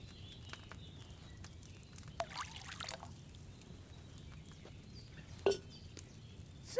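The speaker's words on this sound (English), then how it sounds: "So, what did you pour in there? Wine, of course." Wine poured from a pitcher into a cauldron in Kingdom Come Deliverance 2, a faint, brief liquid pour over quiet game ambience.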